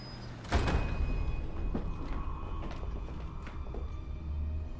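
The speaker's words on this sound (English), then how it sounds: "Door's open." In a tense indoor scene from the Gotham TV series, a door is opened with a sudden mechanical clunk followed by a low creaking rumble that fades into quiet room tone.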